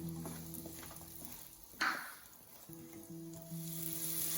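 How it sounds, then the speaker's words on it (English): Three medium onions, chopped into big pieces, sizzle steadily in a pan for butter chicken, a soft continuous frying hiss with a brief louder crackle partway through and a low steady hum underneath. "So onion is frying now."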